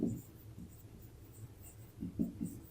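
A pen writing math on paper gives soft, faint scratching strokes in a few short bursts, quiet and close with near silence between them.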